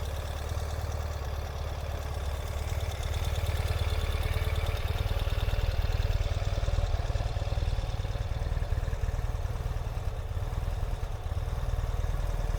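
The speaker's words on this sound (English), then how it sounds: "Starts right up. Runs beautiful on cold engine." A 2021 Ural motorcycle idles on a cold start with a low, steady, even throb close by, running alone without talk.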